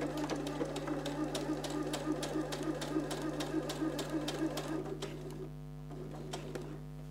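A sewing machine runs a straight stitch along the seam of a cloth shopping bag, a rapid, even ticking chatter over a low motor hum for about five seconds before stopping, with faint hum afterward.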